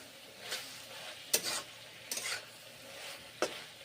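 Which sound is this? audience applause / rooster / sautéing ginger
sautéing ginger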